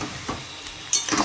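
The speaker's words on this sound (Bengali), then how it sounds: "পনিরটা দিয়ে মশলা দিয়ে একসঙ্গে কষছি" Paneer fries with spices in a pan, a short stretch of soft sizzling and stirring, with a brighter burst of crackle toward the end.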